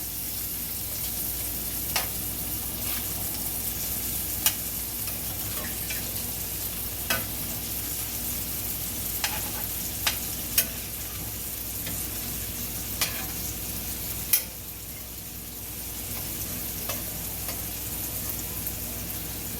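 Seafood fries in a pan for jambalaya, a continuous soft sizzle punctuated by a dozen sharp taps and clicks of a utensil against the pan.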